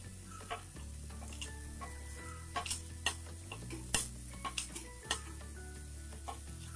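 Potatoes frying in a pan with asafoetida just added, giving a soft, constant sizzle with scattered ticks and light clinks of a utensil against the pan.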